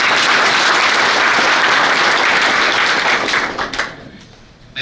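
Sustained applause from a seated seminar audience honoring a newly selected police sub-inspector, loud and dense throughout before thinning out and tapering off near the end.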